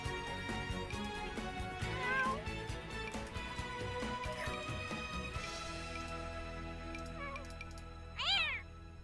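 A cat meows in The Sims 4 Cats and Dogs, a short rising-and-falling mew near the end rising over soft game music and ambient effects, with a few faint earlier cries in the mix.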